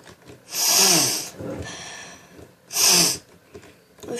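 Two strong, wet sniffs up the nose, close by, separated by a short pause with softer breathing between them.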